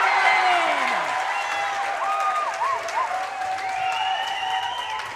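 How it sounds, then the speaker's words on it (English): Crowd cheering and applauding at a Mountain View vs Los Altos girls' basketball game, a steady roar of clapping and voices with whoops, shoe squeaks and whistle-like tones rising above it throughout. "The Mountain View crowd erupts"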